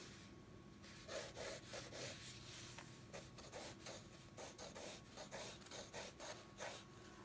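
A pencil is drawn freehand across paper in close, quiet rhythmic scratching strokes, short bursts with brief gaps between them.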